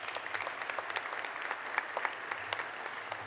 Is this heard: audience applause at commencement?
yes